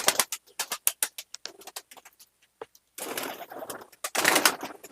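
A released female Andhra pigeon beats its wings in a quick string of sharp claps, then breaks into two heavier bursts of flapping close by.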